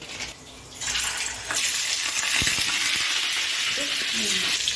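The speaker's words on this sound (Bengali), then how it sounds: "এবার আমরা এই পনিরটাকে তেলের মধ্যে ফ্রাই করে নিচ্ছি" Paneer cubes fry in hot oil with a steady, bright sizzle that swells after a moment and holds, close and moderately loud, with faint clinks of a utensil.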